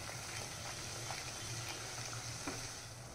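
Masala for misal frying in hot oil gives a soft, steady sizzle and crackle, close but quiet. Faint stirring scrapes turn up now and then, with no voices.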